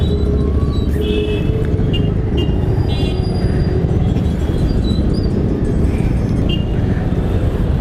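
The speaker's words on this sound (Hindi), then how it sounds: "बहुत ट्रैफिक आज तो।" Heavy road traffic heard from a moving Bajaj Avenger motorcycle: a constant loud rumble of engines and wind, with faint horn toots and passing vehicles breaking through now and then.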